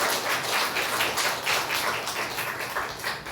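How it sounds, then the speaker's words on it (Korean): A church congregation claps together in welcome during a Sunday worship service, a dense, steady patter of many hands filling the room for several seconds without a break. "박수로 한번 환영해 주시죠"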